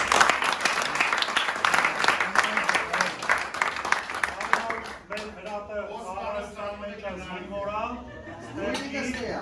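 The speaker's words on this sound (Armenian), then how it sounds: "Ծափահարենք Հրաբին" A crowd at a commemorative event applauds in a thick, rattling burst for about five seconds, then the clapping fades and a voice speaks over a quieter room.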